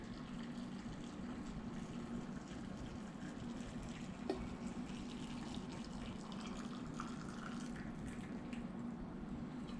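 Hot water pours from a small teapot into canning jars for green beans, a steady soft liquid rush lasting throughout, fairly faint and close, with no talking.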